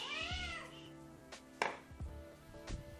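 A cat meows for food indoors, a long rising-and-falling meow up front followed by a few shorter, sharper cries spaced across the moment, fairly close and moderately loud.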